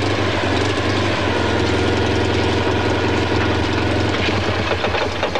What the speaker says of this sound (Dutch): Maar dan moeten we waarschijnlijk even de motor starten,